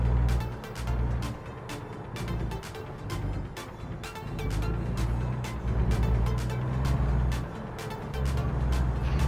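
Truck engine in American Truck Simulator, a steady low drone that rises and falls as gears shift down while the rig keeps rolling, with regular mechanical ticking over the engine hum and no talk.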